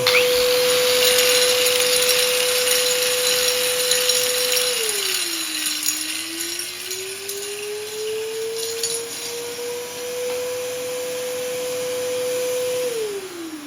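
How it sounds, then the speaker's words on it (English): A vacuum cleaner motor drones steadily at close range. Its pitch dips and slowly recovers, then winds down as it is switched off at the end. "And he turned it off, vacuum cleaner."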